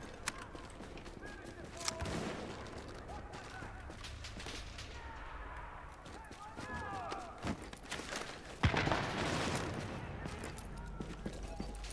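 Bursts of gunfire crack repeatedly amid game noise and scuffling footsteps in the Dark Zone of the video game The Division, while voices talk in the background.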